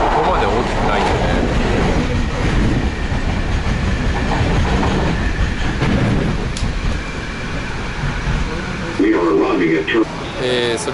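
The JFK AirTrain runs along its elevated track, a continuous rumbling rattle with rail clatter throughout, while a voice speaks over the ride.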